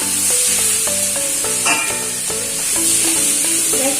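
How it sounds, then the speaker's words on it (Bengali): Steady loud sizzling of marinated chicken and vegetables frying in a pan, with a musical melody playing over it throughout. "চিকেন আর সবজিটা দু তিন মিনিটের জন্য ভালো করে ভাজা ভাজা করে নেবো"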